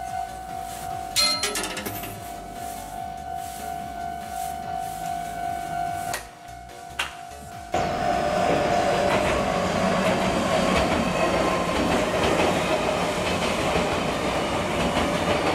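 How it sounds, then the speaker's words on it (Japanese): A level crossing bell dings repeatedly beside a shrine, then a train rushes past close by with a loud rumbling roar that swells and stays heavy. "後ろで電車が駆け抜けていく音、踏切の音をね BGM にしながらね"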